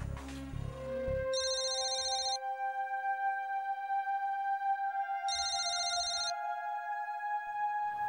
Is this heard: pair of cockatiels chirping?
no